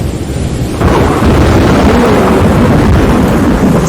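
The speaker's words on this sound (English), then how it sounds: "Somebody please stop scary thunderstorm." A thunderstorm: a loud, sustained roll of thunder breaks in after a moment and rumbles continuously over steady rain, close and heavy.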